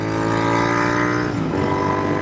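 A Royal Enfield Continental GT 650 twin engine with S&S exhaust pipes revs loudly and steadily up close, its throaty drone holding strong before dipping briefly and climbing again.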